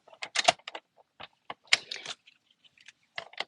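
Fresh Freesia cardstock being trimmed to size on a paper trimmer, giving a series of short, crisp clicks and sliding scrapes in close, quiet bursts with pauses between them.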